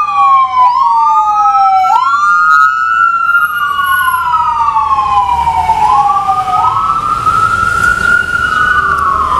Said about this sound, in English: all of a sudden it's like sirens going by